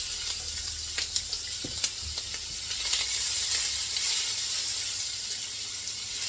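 Mild Italian sausage sizzles in a pan over low heat, a soft steady hiss with a few light knocks and clatters near the start, no one talking.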